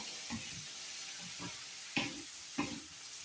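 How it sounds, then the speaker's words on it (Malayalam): Food fries quietly in a pan as a spoon stirs it, with a soft hiss underneath and a few distinct scraping strokes spaced out across the moment, the last two sharper than the rest. "നന്നായിട്ടൊന്ന് ഇളക്കി കൊടുക്കുക."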